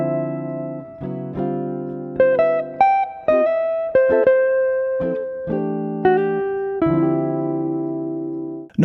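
A modal jazz trumpet line unfolds as sustained, tonal melodic notes over a steady low accompaniment, with clear note changes and a sharp accent at the very end.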